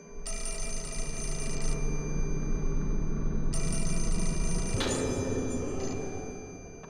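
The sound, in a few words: telephone bell ringing in the video game Fatal Frame: Mask of the Lunar Eclipse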